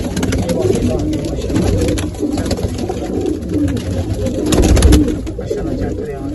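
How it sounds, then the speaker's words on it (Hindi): Pigeons coo softly in a loft, low murmuring calls that repeat under people talking close by. "ये टैडी कबूतर था बाजू में गया हुआ था"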